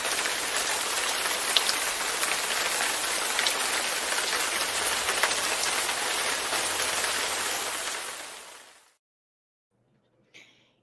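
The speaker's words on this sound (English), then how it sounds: "Every time I turn around, it's raining in here." Heavy rain pouring in a constant, dense hiss of drops, loud and close, running steadily for several seconds before cutting off abruptly into silence, followed by a faint brief noise.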